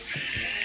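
Pepper grinder cranks out pepper in a short, close burst of rapid ratcheting clicks over a hissy background.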